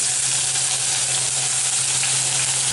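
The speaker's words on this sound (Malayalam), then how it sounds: "അതിലേക്ക് 1 ടീസ്പൂൺ ഇഞ്ചി ഇട്ട് കൊടുക്കുക" A teaspoon of ginger hits hot oil in a pan and fries with a steady, loud, dense sizzle throughout, no voices over it.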